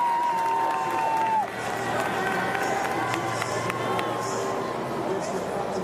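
A French crowd cheering and clapping along the course of a Paris 2024 para cycling road race, a broad roar of voices near the finish, with commentators talking over it.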